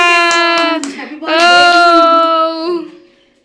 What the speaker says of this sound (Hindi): चलो ताली बजा।